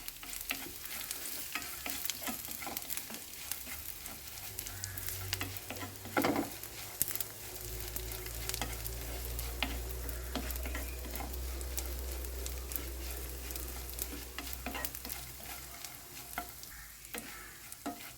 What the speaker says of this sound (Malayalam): ചെമ്മീനൊന്ന് വറുത്തെടുക്കണം